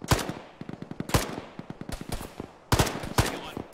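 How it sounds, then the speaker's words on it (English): Autocannon fire in the military video game Arma thumps out in rapid, rhythmic bursts, with several heavier blasts standing out among the steady stream of shots, loud and close. "Auto cannon,"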